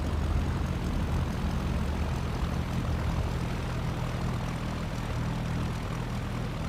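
Steady, droning engine of a Cessna propeller plane in the X-Plane 11 flight simulator, a continuous even hum held at one level throughout with no talking.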